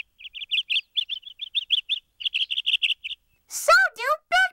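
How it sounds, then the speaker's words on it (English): Small birds chirping in a quick, lively run of short high tweets, followed by a few louder, lower, drawn-out harmonic calls near the end. "Little birds make music."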